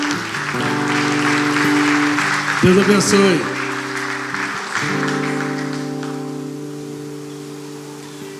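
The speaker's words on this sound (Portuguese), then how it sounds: "Vamos aplaudir o Senhor pelo pessoal da Conajupe," Church congregation applauding for the Conajupe convention group at a pastors' union event in Rio de Janeiro, a broad steady wash of clapping with music tones underneath and someone speaking over it.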